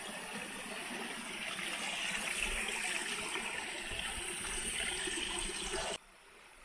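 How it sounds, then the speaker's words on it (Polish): River water rolling over rocky steps and small rapids in Livingston, Guatemala, a steady broad rush held at moderate level for about six seconds, then dropping away abruptly. "jak tu się wszystko ładnie ta woda przetacza przez te progi"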